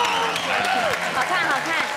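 Studio audience on a Taiwanese variety talk show breaks into steady, dense applause that fills the whole stretch, with voices calling out over the clapping.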